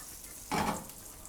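Salmon pieces dropped into a hot pan, a sudden burst of sizzling that flares sharply for a moment and then settles into a softer frying hiss, with no one speaking.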